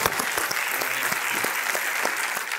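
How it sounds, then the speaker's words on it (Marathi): A studio audience on the Marathi quiz show Kon Honaar Crorepati applauds steadily, the dense clapping holding at an even level throughout with no one speaking. "तुमच्या भावासाठी टाळ्या"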